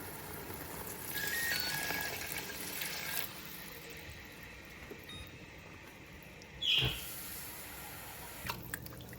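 Water being poured into a pot for Ambur-style chicken biryani, a soft continuous liquid rush through much of the stretch with a brief louder splash near the end, no talking.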